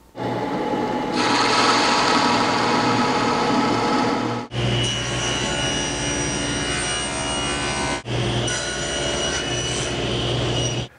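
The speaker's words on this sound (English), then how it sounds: "drill a counter bore with that, and then punch a hole 1/4 inch going the rest of the way through" A loud, steady mechanical whine with dense high-pitched grinding runs continuously, broken by two brief pauses, as a drill press bores a counterbore into maple up close.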